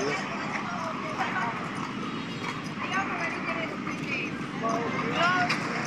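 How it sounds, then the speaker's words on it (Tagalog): Horse hooves clip-clop along a street on a walk from a hotel to Luneta, steady and moderately close, under near-continuous talking and busy street noise. "May kabayo pa."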